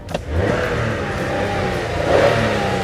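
A 2018 Toyota Camry XLE 3.5 V6 engine revs steadily with a low mid-range rumble, swelling slightly louder near the end, with no voices.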